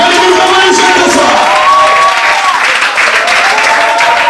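Loud applause mixed with cheering, whoops and shouting erupts from the crowd at a dance battle selection in Port-Gentil, close and energetic throughout with voices calling over the clapping.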